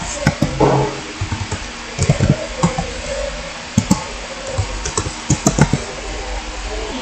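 Scattered keystrokes on a computer keyboard, a few light clicks and a quick key combination pressed, close and fairly quiet, with faint background noise.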